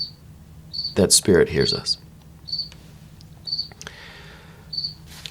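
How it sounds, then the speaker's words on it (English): Crickets chirp inside a quiet, echoing room: short, bright bursts repeating every second or so, with a person speaking briefly over the first chirps. "I apologize for the crickets"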